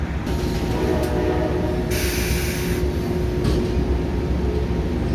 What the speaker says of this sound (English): I think they're gonna move the train.